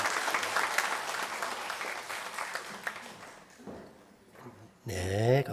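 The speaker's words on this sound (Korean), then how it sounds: "역시 박수로" A church congregation at a Sunday worship service breaks into sustained applause following a prayer, a dense clatter of many clapping hands that fades before a voice speaks briefly at the end.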